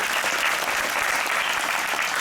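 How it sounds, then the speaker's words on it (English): Concert audience applauding warmly after a duet performance, a dense, steady wash of many hands clapping close and loud throughout, with no voices rising above it. "Please bless Manasa and Anusha with a very big round of applause"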